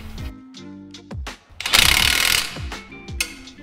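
Ratchet wrench clicking as a nut and bolt go back onto a Toyota Camry rear brake caliper, several short bursts of close, sharp mechanical clicks with a louder rapid run in the middle.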